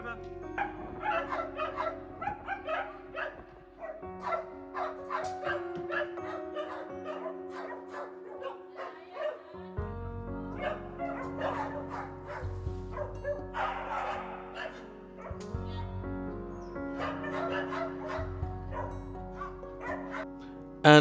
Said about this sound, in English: All the dogs seem to be congregating outside.